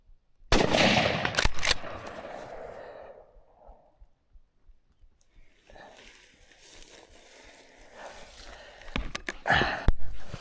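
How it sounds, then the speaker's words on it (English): Rifle shots in the hunting game Chase the Wild: Spain, during an Iberian red stag hunt: a loud sharp blast at the start with a quick follow-up burst, then quieter noises, and more sharp bangs near the end. "Try to shoot him again."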